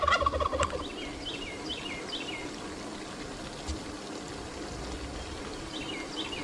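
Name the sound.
water pouring into a new duck pond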